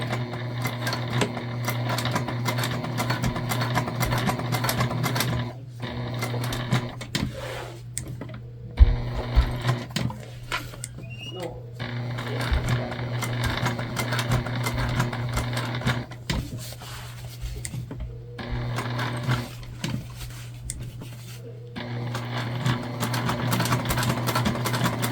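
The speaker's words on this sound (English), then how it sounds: "when you're sewing a bag tag on, you're just doing a top stitch, so 1/8 of an inch around the whole thing." A sewing machine top stitches a bag tag onto a Zora shoulder bag, a long, fairly quiet, continuous mechanical whir with a few brief stops and a steady hum beneath.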